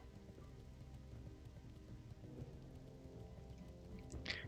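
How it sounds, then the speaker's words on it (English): Steady rain in World of Warcraft Classic patters continuously across a surface, a dense even hiss with soft low rumble underneath, no voices. "Oh, and it's raining."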